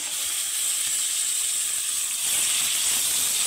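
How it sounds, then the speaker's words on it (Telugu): Spiced chicken pieces hit frying onions in hot oil, giving a steady, close, hissing sizzle that swells a little louder partway through, with no voices. "మనము ఇంతకుముందు మసాలాలన్నీ కలిపి పెట్టుకున్న చికెన్ ముక్కలు కూడా ఈ ఉల్లిపాయల్లో వేసుకుందాం."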